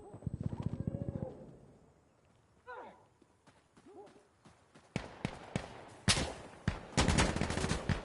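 Gunfire in the shooter game Insurgency: The War on Terror, starting with a rapid burst under a voice, then scattered sharp shots and dense, loud volleys that build toward the end.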